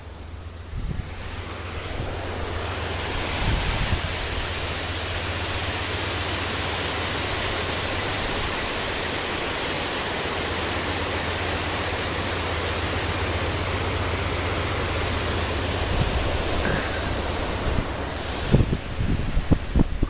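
A river rushes beneath a bridge on the Allegheny Passage bike trail on a cloudy day, a broad steady roar of flowing water with wind buffeting the microphone and a few faint knocks near the end.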